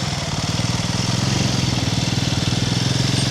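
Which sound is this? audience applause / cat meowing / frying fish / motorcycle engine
motorcycle engine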